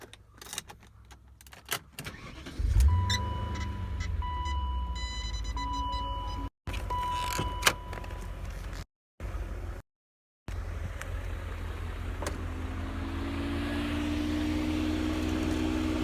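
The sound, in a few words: car engine starting and idling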